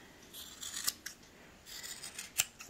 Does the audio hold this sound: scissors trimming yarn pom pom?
yes